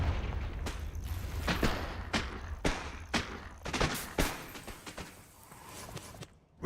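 Confringo fire blast spells go off in Hogwarts Legacy, a rapid string of sharp explosive bursts and booms, about eight impacts in quick succession before fading.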